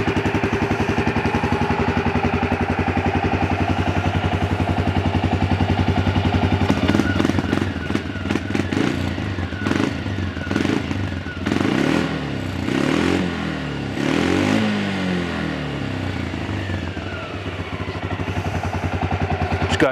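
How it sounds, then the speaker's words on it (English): A Yamaha Grizzly 300 ATV running on an aftermarket carburetor, idling steadily with a mechanical clatter, then blipped through several sharp revs mid-clip before settling back to a close, loud idle. "It's got good idle, good wide open throttle."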